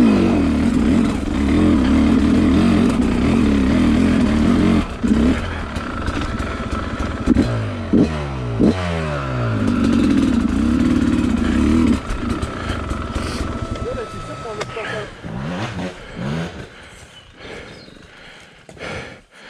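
A motorcycle converted from fuel injection to a carburettor starts up outdoors and revs loudly, its engine rising and falling through several throttle sweeps before settling into a rougher, uneven idle that fades toward the end.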